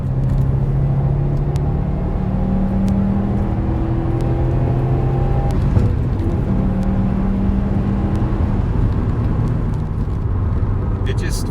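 A manual Subaru WRX STI accelerating through the gears, its engine note rising and falling with each shift under a steady road rumble, heard from inside the car while a person talks over it.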